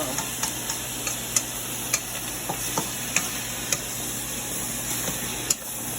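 Meat and vegetables stir-fry in a hot pan, giving a steady low sizzle broken by light, irregular ticks and scrapes of a utensil against the pan, close by, with no talking.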